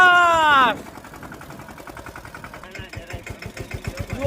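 A farm tractor engine runs in a cotton field with a rough, pulsing idle that grows louder toward the end, after a brief loud tone at the start, with people talking nearby.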